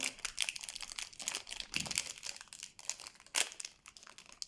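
Plastic and cardboard packaging of a new Minna Moody doll with purple hair being torn open, a close, busy run of crinkling and crunching with sharp rips, no talking.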